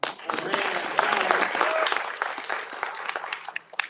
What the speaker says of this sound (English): how about a round of applause for Tom?